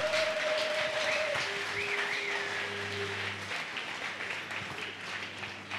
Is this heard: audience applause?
yes